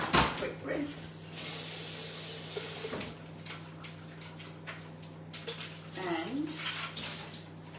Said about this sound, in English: So, quick wash up. Quick rinse.